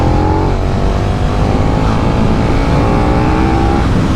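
A 2021 KTM 1290 Super Duke R motorcycle accelerating hard, a loud, continuous, close engine roar with rising pitch and wind rush.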